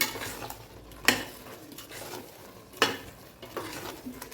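Mushrooms sauté with curd in a pressure cooker for mushroom biryani: a soft, steady sizzle runs throughout, broken by two sharp spoon-on-metal clanks from stirring, close by and with no talking.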